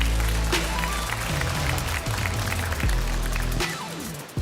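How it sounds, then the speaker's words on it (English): Audience applause welcoming a speaker onto the stage at the Formnext industry trade fair, loud under music and a bass-heavy sting that cuts out near the end. "Big applause, Lauren, ladies and gentlemen"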